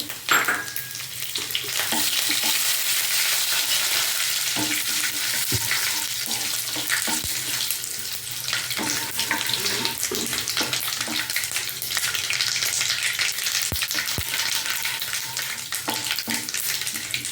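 A South Indian tempering of urad dal, mustard seeds, cumin, dried red chillies and curry leaves fries in hot oil, a loud, close, continuous sizzle with scattered crackles and pops lasting throughout, with no speech.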